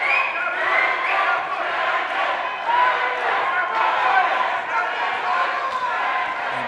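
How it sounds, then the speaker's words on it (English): Boxing arena crowd at a featherweight bout, rival fans of Brandon Cruz and Carlos Rangel chanting and cheering against each other, a loud continuous roar with rising chants, alongside commentator talk. "the crowd is battling Rangel versus Cruz's fans"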